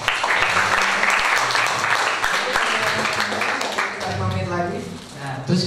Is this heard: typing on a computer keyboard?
no